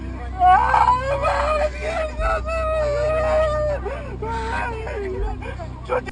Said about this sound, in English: You can hear her husband crying in pain.